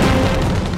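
A 40 mm naval cannon fires from a patrol boat in a sea battle, a dense low boom filling the short burst at close range, with no voices.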